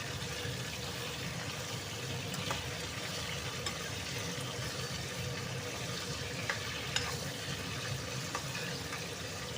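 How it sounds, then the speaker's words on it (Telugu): Small bitter gourds fry in hot oil, giving a steady, even sizzle with faint crackles throughout, close up and with no talking. "ఇంకా ఓన్లీ ఆయిల్లోనే ఫ్రై అవ్వాలి కాయ అనేది"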